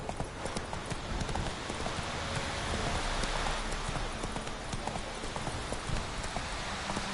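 A horse gallops in the video game Witcher 3, its hooves pounding in a rapid, continuous clatter beneath steady rain-like noise, loud and close throughout.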